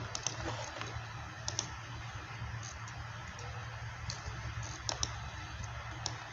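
Keyboard typing followed by mouse clicks in Photoshop, a steady patter of small taps and sharp clicks over a low background hum, close and fairly quiet.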